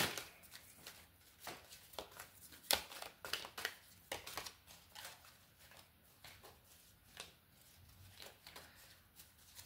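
Tarot-style cards being shuffled for a reading, a run of crisp riffling bursts and soft slaps repeating irregularly at close range, with no talking.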